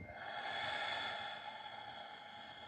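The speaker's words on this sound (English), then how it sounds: "Take another deep breath in. And exhale." A slow, deep exhale through the nose, soft and breathy, trailing off over a couple of seconds in a quiet room with no speech.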